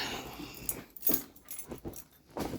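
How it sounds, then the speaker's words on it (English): A set of keys jangles in short, irregular clinking bursts close by in a garage beside a 1973 Ford Mustang, with no talking. "Let's find my keys."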